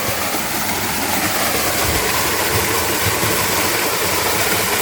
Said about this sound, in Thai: น้ำตกไหลลงสู่ด้านล่างนะครับ